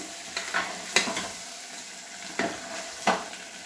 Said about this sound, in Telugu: ఇప్పుడు మనం అన్నీ ఒకసారి కలిపేసుకుందాము